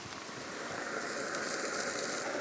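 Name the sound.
rain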